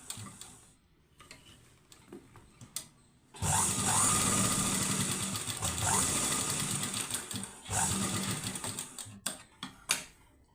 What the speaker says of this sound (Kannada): ಈ ಥರ ದೊಡ್ಡ ಹೊಲಿಗೆ ಹಾಕಿ